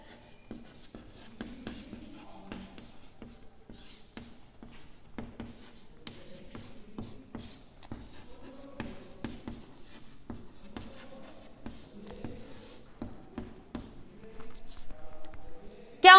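Steady scratching of chalk or pen writing on a board during a Hindi physics lecture on four-momentum components, faint and intermittent with frequent taps and strokes and soft room noise throughout.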